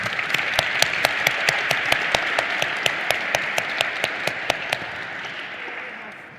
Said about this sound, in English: You need to give yourself a big round of applause,